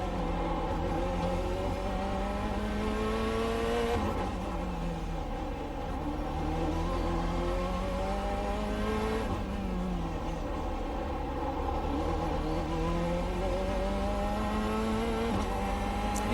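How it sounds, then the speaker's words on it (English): A Corvette C8.R GTE race car in the iRacing simulator drives at speed, its engine note climbing and dropping through quick gear changes in a steady, continuous whine with no talk. "You can hear the rear axle as it's hunting around for the grip with the traction control doing its thing"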